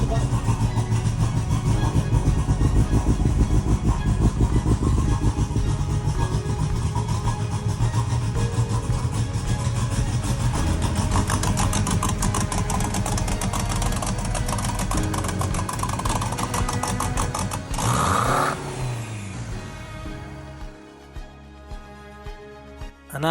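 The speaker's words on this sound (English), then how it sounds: "The car starts, but straight away it starts blowing thick smoke." A modified Honda car engine runs steadily and loud after starting while blowing thick smoke, a dense continuous drone that drops away near the end into a few quieter, uneven pulses.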